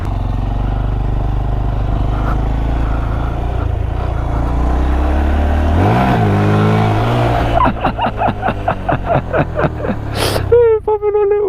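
A 2015 Honda Grom motorcycle engine roars loudly during a ride, wind and engine noise steady at first, then a rapid rising series of sharp revving pulses near the end, with a brief voice.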